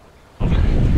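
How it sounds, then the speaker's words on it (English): Strong wind on a mountain road in Norway, felt as quiet hiss until a sudden loud roaring gust buffets the microphone and keeps rumbling heavily. "the wind is getting pretty loud as you guys can hear"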